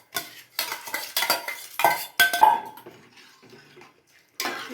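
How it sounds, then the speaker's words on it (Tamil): Ponni broken rice tipped into a pot of boiling water and stirred, giving repeated close scraping and clinking bursts of spoon against metal, then a quieter bubbling pause before another burst. "நம்ம எடுத்து வச்ச அரிசியை இதில் சேர்த்துக்கலாம்."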